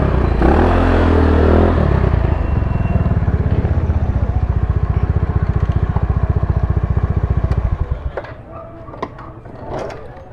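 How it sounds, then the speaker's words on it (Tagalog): A Rusi Royal 57 motorcycle with a big-valve engine revs hard and loud close by for about eight seconds, then drops away as a few voices talk. "galit na galit ang makina,"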